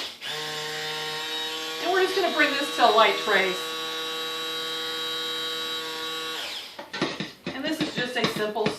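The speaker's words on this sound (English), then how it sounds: "okay, I'm going to hit the stick blender, pardon the noise for just a minute." Stick blender whirring steadily as it mixes a simple three-oil soap batter toward light trace, a loud sustained motor drone running under talk, then cutting off before more speech.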